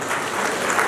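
An audience at a Kodava book and cultural award ceremony claps, a brief, dense burst of applause at moderate volume.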